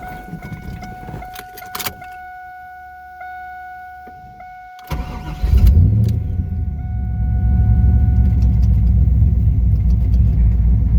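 Chimes and clicks from inside a 1997 Chevrolet Camaro SS with an LT4 V8, then the engine cranks and fires, settling into a loud, deep, steady idle rumble up close.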